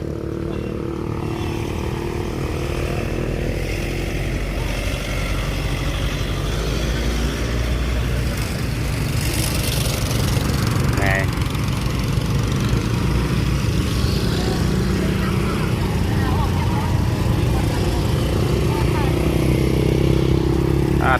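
Motorcycles and cars roll past on a busy road in a steady, continuous engine rumble, with someone talking over the traffic throughout.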